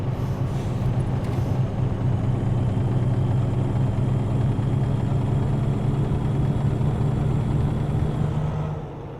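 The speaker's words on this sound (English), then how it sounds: "That knocking noise I hear in the engine is just that little bit of a knocking sound." An International truck engine in American Truck Simulator runs with a slight knock, a steady loud droning rumble that holds unbroken and eases off in the final moment.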